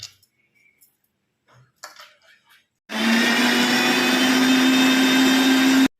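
A mixer grinds salted tamarind into a paste, starting abruptly after a few soft knocks and running as a loud, steady, high-pitched whir for about three seconds with no talk.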